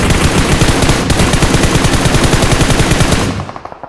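Loud, close automatic gunfire from the video game PUBG Mobile: rapid unbroken bursts of shots that run for several seconds, then thin out into a few spaced shots as they stop.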